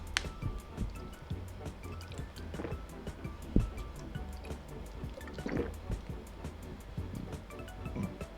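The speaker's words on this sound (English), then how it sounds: "Gotta drink some water again." Someone drinks water close to the microphone, with soft wet sips, gulps and drips scattered through a quiet background.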